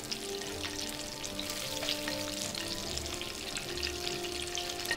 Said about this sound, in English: you take the fat or whatever your oil you cooked it in or whatever, and then you kind of baste that onto the fish